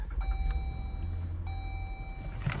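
A 2011 Jeep Grand Cherokee Overland starts and settles into a low idle rumble inside the cabin, while a clear multi-tone seatbelt chime dings twice, about a second apart.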